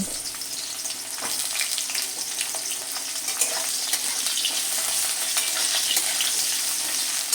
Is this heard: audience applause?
no